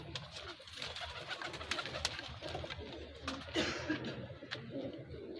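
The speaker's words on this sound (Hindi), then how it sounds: "अभी भी काफ़ी कबूतर हैं जो बॉक्सेस में लगे हुए हैं।" Pigeons coo continuously in a dense, overlapping chorus, with occasional wing flutters and sharper chirps rising above the steady murmur.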